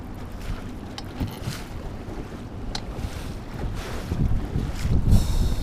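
Wind blowing across Lake Norman while fishing from a boat, a rumbling, buffeting roar against the microphone that swells and builds stronger toward the end, with occasional knocks on the hull.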